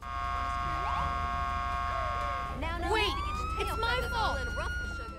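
A police car siren in the video game GTA 5 wails in rising and falling sweeps over a steady low hum, shifting pattern midway, with someone narrating throughout.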